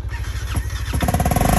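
A Honda CB500X motorcycle engine cranks and catches after a freezing night outdoors, a short close starter whir breaking into a steady, rapid idle pulse.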